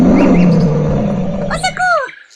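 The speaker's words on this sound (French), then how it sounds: "Un lion vient de surgir d'une autre grotte!" A lion roars from a cave in a Playmobil animated film, a loud drawn-out growling roar building over a rumbling background and ending in rising cries.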